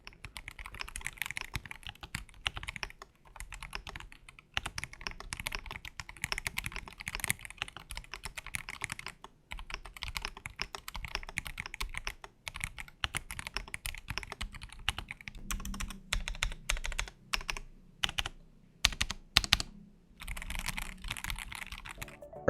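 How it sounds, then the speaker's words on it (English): Continuous typing on a stock Feker Alice 80 mechanical keyboard, rapid clacking keystrokes with a few short pauses and some louder, heavier key hits, close up. "let's now hear how the stock form of this keyboard sounds like"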